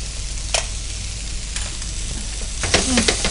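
Fish coated in salt, coriander powder and garam masala fries in a pan for an Andhra-style fish fry, a steady close sizzle with a few sharp crackles and spatters, busier toward the end.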